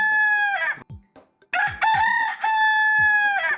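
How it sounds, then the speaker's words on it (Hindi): A rooster crows loudly and close by in the morning, giving two long, full cock-a-doodle-doo calls separated by a short pause, with no voices around them. "अगली सुबह चीनू जोर जोर से बांग लगाता रहा"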